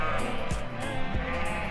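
Sheep bleating repeatedly in a flock near Painted Hills National Monument, loud and close, with overlapping calls in an uneven rhythm and no talk.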